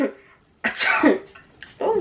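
A single sharp sneeze bursts out mid-clip, close and loud, between brief bits of speech from people nearby.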